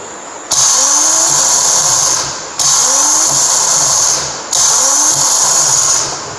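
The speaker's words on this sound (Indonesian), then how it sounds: "Ketika di starternya berputar, kemudian pinionnya maju." Car starter motor turned with the key in the ST position, pinion gear engaging; three separate high whining runs of about two seconds each, loud and close, with short pauses between them and no speech.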